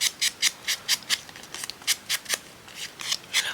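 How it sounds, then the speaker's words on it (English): Scissors snip the corners off a craft piece in a steady run of about fifteen short, crisp cuts, close and clear, with no talking. "Snip the corners."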